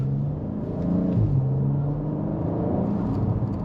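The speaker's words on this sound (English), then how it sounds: "you do get that lovely burble as you come off the throttle" An Audi RS4 or S4 engine with a torque converter gearbox rumbles and whirs at low revs in town, close by, with a soft, uneven burbling exhaust note as it comes off the throttle.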